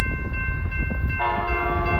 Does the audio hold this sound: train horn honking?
yes